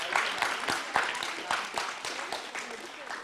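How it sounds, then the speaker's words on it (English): An audience claps for Team 3, Hawar International School, at a school Medathlon grand finale; scattered, uneven hand claps crackle at moderate volume beneath an announcer's voice. "A round of applause for them."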